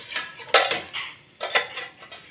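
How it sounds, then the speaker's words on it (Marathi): A metal lid is set onto a pressure cooker holding a rice container in a home kitchen, giving a few close, bright metallic clanks and scrapes in two short bursts with quiet gaps between. "मग यावरती झाकण ठेवते।"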